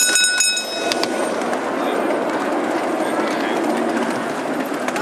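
A miniature live steam train at Railroad Park in Medford, Oregon rolls along with a steady rumbling clatter, and a whistle-like tone sounds briefly at the start.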